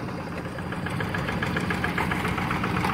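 Tractor engine idling outdoors at a busy tourist spot, a steady knocking diesel rumble with continuous background bustle.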